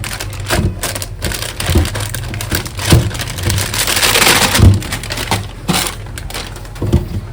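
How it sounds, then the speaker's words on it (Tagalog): Rain falls steadily outdoors as a broad, continuous hiss, joined by intermittent close knocks and crunching handling noises. "Ang ulan ng panahon, guys, oh, maulan ng panahon."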